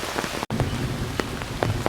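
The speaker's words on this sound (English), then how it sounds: "It's still raining." Steady rain pours down at MacRitchie Reservoir, a dense, continuous hiss of drops on surfaces with scattered sharper splashes, close and fairly loud throughout with a momentary dropout near the start.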